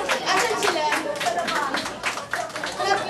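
Applause from an audience at an award presentation during a community celebration in Pasig, with steady, dense clapping and crowd chatter mixed in throughout.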